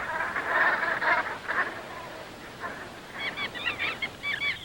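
Brent geese on a winter estuary, a flock giving overlapping throaty honks and murmuring calls, steady chatter with brighter bursts, fairly close and fairly loud, no talking.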